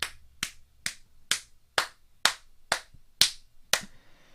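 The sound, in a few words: hands clapping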